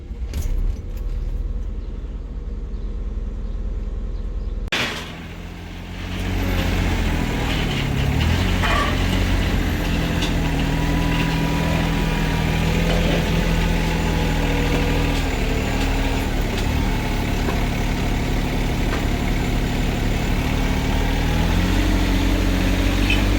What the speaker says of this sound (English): Alright, cold start. Hasn't been started in probably a week and a half, 2 weeks.